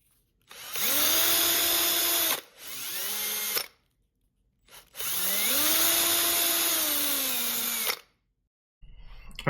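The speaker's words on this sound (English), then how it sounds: "So I do need to drill those out next." A power drill whines loudly in two long bursts with a short pause between, pitch dipping as the bit bites into cedar wood while making a fishing lure, then stops.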